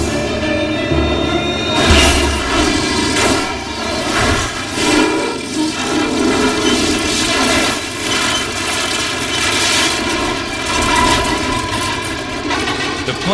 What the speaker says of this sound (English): As a last resort, the water bomber pilots throttle up to get back into the air.